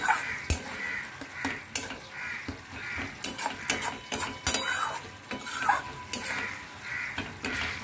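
Spice paste frying in oil for doi katla, a Bengali yogurt fish dish, with a spoon scraping and clattering against the pan in a steady stirring rhythm over a soft sizzle.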